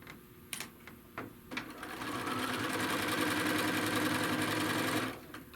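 A sewing machine stitches down the open end of a bag in one continuous close run of about three seconds, preceded by a few short clicks and taps as the fabric is positioned.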